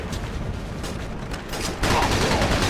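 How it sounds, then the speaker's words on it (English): Video-game gunfire rattles as a dense, continuous fusillade of shots at steady loudness, swelling louder and brighter for the last second. "They're shooting at the commander"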